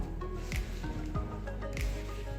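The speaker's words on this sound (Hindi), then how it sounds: "अब मैं पहले इसको ऑफ करके हाथों के साथ गूंदूंगी" Soft pizza dough made with warm milk and water is kneaded by hand, giving quiet, irregular squishing and sticky slapping sounds at close range with no talking.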